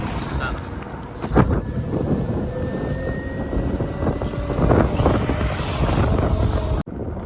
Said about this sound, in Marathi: भाई पाऊस आहे ना